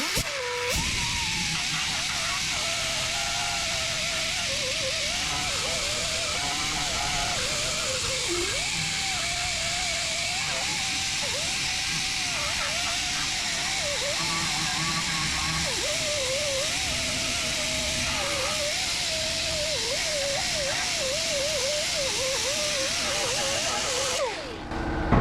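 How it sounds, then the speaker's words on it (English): A wire wheel grinds across a rusted car floor pan, a loud, continuous abrasive whine with a wavering pitch, close and steady for the whole stretch, cutting out only at the end. "We're going to use the old wire wheel here to try to clean this up so I can try to find the welds."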